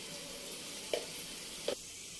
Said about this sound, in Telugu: టమాటో క్యూరీ ఏదైతే వేసుకున్నామో ఇలా ఫ్రై చేసుకోవాలి.